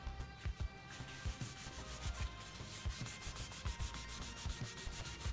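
Repeated rubbing strokes scrub at a scuff on the case of a 1993 Macintosh TV, a steady close rasping with regular pulses and no talk.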